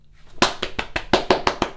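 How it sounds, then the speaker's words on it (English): Hands clapping, about eight crisp, close claps in a quick, even rhythm after a brief quiet start. "Clap, clap, clap, clap, clap."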